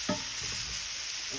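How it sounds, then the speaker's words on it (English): Baked ziti ingredients frying briefly in a pan, giving a steady, close sizzle with a small scrape at the start and no talking. "Just gonna fry this for a second."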